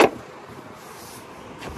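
The electric windows of a Fiat 500X Cross Plus whir in the car's cabin, a short motor hum with a soft thump at the start and another near the end, heard close with no talk.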